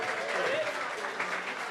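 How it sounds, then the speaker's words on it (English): Brief burst of audience applause at a community creativity evening, steady mid-level clapping from a crowd with faint voices mixed in. "Big round of applause for these absolute legends."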